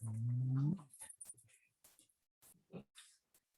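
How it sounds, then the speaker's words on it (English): Two very old dogs wrestle indoors. A loud, drawn-out whining growl is followed by scattered snorts, scuffles and soft thumps separated by quiet gaps. "my two very senior dogs, have slept up enough energy to wrestle for a few minutes"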